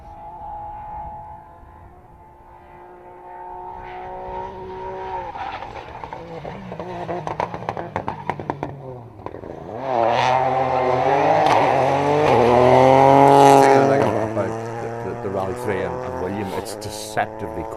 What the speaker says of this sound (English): That sounds like the distinctive William Crichton coming